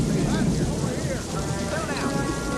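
Rain and a gathering storm from the 1992 western film Unforgiven, arriving at the frontier town of Big Whiskey: a loud, dense wash of downpour with rumbling undertones filling the whole stretch.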